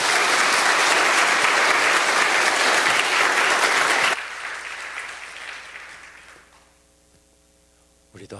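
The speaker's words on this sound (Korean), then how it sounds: "우리 큰 박수로 환영하겠습니다" Korean church congregation applauding to welcome the pastor, a loud, dense round of clapping that breaks off abruptly and leaves a quieter room tone and a steady electrical hum.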